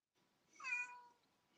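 A house cat gives a single drawn-out meow at close range, rising then fading, alone against a quiet room.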